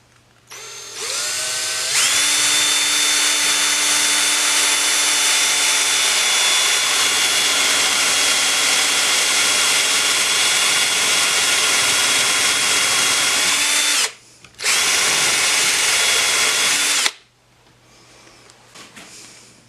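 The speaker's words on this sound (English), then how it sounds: "I'm going to drill a hole" A power drill bores and countersinks a screw hole in a wooden frame for a canvas painting, starting with a short burst, then a long loud steady whine, a brief pause, another run and a quieter tail.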